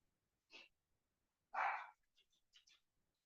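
A dog barking in reaction to a car alarm: one short quiet yap, then a louder, fuller bark followed by a few faint snuffly huffs, heard fairly distant in an otherwise quiet room.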